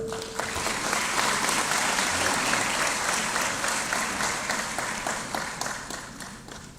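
Sustained audience applause fills a hall at a swearing-in ceremony of the Angolan Bar Association, a dense wash of many hands clapping at an even level that slowly tapers, welcoming a singer to the stage.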